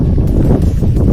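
Strong wind at a viewpoint park in Meghalaya buffets the microphone with a loud, continuous low rumble and no clear speech.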